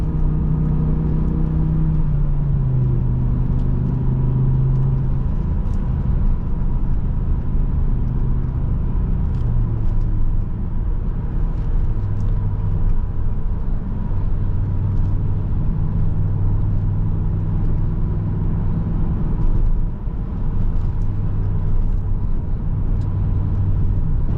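Inside a 2007 BMW M6 with a V10 engine, a steady low engine drone and road rumble continue while driving, with the engine note shifting gently as the car cruises.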